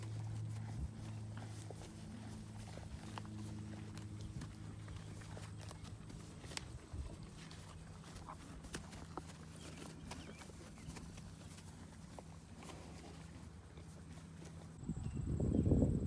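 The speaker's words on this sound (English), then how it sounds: "As soon as the horses walked over there, the bird followed them." Two horses walk slowly over ground on a farm, their hooves giving faint, irregular clip-clop steps over a quiet outdoor background. The sound grows louder and rougher near the end.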